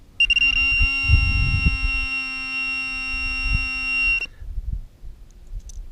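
A Pro-Find metal detector gives a steady, loud electronic tone with a coin lying next to a nail. The tone holds for about four seconds, then cuts off. Low thumps and handling noise sit underneath.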